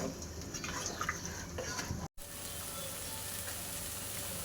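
Raw mango pickle simmers in sugar syrup: a faint, steady bubbling hiss, close and even, broken by one brief dropout partway through.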